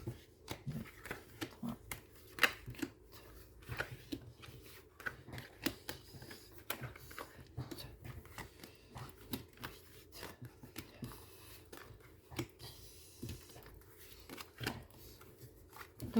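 Tarot cards shuffled and laid out on a table: quiet, irregular snaps, slides and taps of the card deck, close and soft, with faint background hiss.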